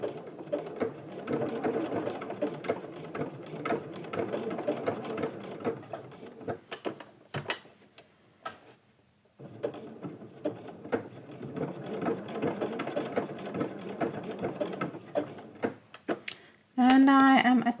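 A sewing machine runs stitching raw edge applique, its rapid rattling needle chatter going in long bursts with a short pause midway and a few clicks, close and steady.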